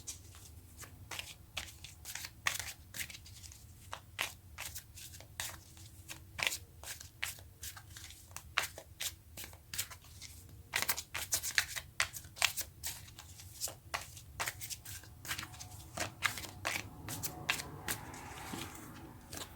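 Tarot cards being shuffled by hand, a long run of crisp riffling clicks and soft card slaps in steady bursts, close and fairly quiet with no talking.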